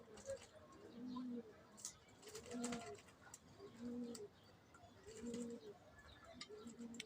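Pigeons coo in a steady rhythmic pattern, with three or four soft, low, rolling calls repeating at close range over faint background noise and light chirps.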